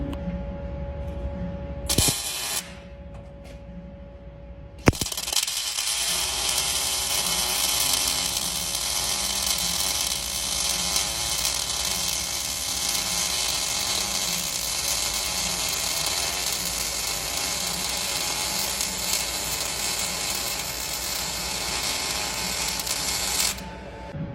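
An Esab welder burns a pull tab onto a dent in a Tommy Gate tailgate, giving a steady, loud crackling hiss that holds for about twenty seconds after a brief start and a few short bursts.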